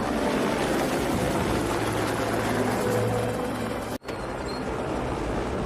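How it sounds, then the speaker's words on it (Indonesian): A helicopter drones steadily overhead with a broad, continuous rotor and engine roar, briefly cut by a sharp dropout before the noise resumes at the same level. "tiba-tiba datang sebuah helikopter"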